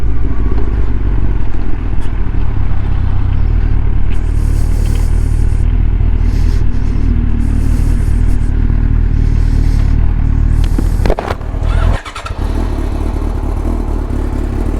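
A Yamaha R6 motorcycle engine runs steadily and close by with a loud, continuous drone, then gives a brief sharp rise and dip near the end before settling back to a steady run.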